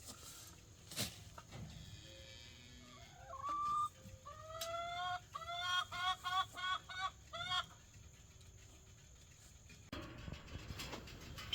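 Chickens clucking close by, a quick run of rising, squawky calls in a burst, then settling back into a quiet farmyard murmur.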